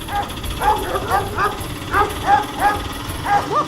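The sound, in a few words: dogs barking in a cartoon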